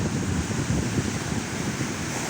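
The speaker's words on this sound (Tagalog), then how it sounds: "nga buliskat na po sa balod ang dagat o tungod sa bagyo nga uwan" Rough sea waves churned up by a typhoon roar as a dense, continuous wash of surf mixed with gusting wind noise, loud and close with no voices.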